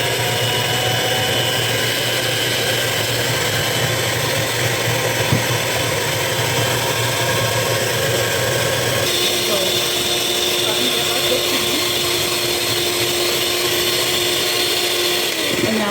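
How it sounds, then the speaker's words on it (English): Handheld electric blender whirring steadily through cream being whipped for homemade butter, a continuous buzzing motor tone that shifts slightly in pitch midway, close and constant throughout. "When you are making it in a hand blender, you are going to see it form as whipped cream"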